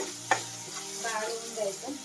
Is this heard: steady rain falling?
no